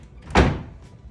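Double doors to a hotel bathroom at Mandalay Bay swing open with a single soft thud and brief rattle, close and fairly loud, with no voices.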